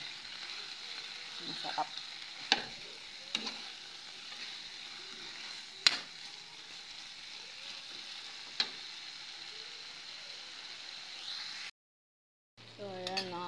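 Winged beans (sigarilyas) sauté in a pan with a soft, steady sizzle and occasional clinks of a utensil stirring, then a short gap before a voice speaks briefly.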